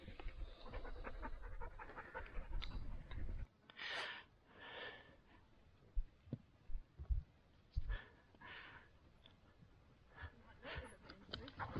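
A dog pants in quick, breathy bursts on a hill track near a tarn in the Lake District fells, close and fairly quiet, with wind rumble at the start and faint outdoor noise around it.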